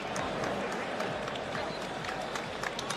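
A UFC arena crowd on its feet after a women's title fight between Jędrzejczyk and Rose, a dense roar of cheering and clapping from many people, with a commentator's voice faintly under it.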